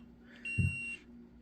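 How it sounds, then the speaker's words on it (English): A DOVOH H3-360G laser level gives a single short electronic beep, thin and high-pitched, for about half a second against a quiet background, warning it is out of pendulum range. "So it'll beep at you if you are out of the range of the pendulums."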